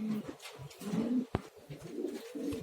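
Fancy pigeons coo softly and repeatedly in low, throaty murmurs, close by, with a faint rustle of background noise.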